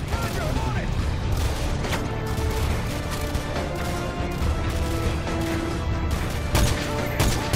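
Steady gunfire and impacts from the Call of Duty Modern Warfare PC game, with overlapping shots, crashes and battle noise running continuously at a dense, loud level.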